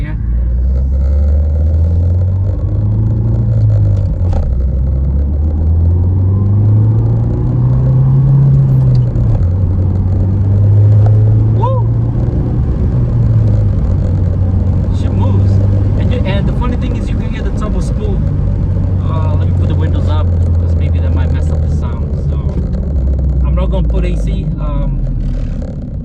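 A 2015 Ford Fiesta ST with a four-cylinder engine accelerating hard in first gear, a loud steady engine drone rising and falling in pitch from inside the cabin, with a person talking over it throughout.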